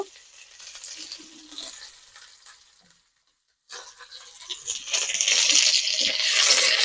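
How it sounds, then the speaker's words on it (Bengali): Chopped onion hits hot oil in a pan, a faint hiss and clinks of stirring, then a brief pause before the sizzle rises loud and bright, close by. "এই পেঁয়াজটা ভেজে নেব"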